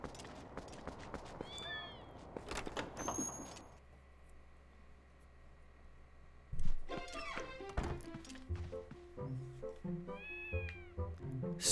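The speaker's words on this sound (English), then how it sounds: "Oh no, there's cats everywhere." Many cats meow repeatedly in Zelda: Twilight Princess, overlapping mews rising and falling across the scene, with a soft thump and quieter stretches between bursts, game background ambience underneath.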